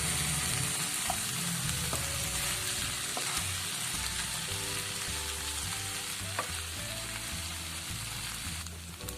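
Stirring pasta with masala in a pan: a steady soft sizzle and fry under repeated scraping and stirring strokes, with occasional light clinks, close and fairly quiet, no talking.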